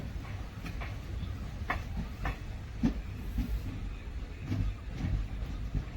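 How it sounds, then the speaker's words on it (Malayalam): An Intercity Express train pulls away from Thuravoor station, with a steady low rumble and periodic clicks of wheels over rail joints, heard from inside the carriage after rain. "ഒരു മിനിറ്റിന് ശേഷം തുറവൂർ നിന്നും ട്രെയിൻ എടുത്തിരിക്കുകയാണ്"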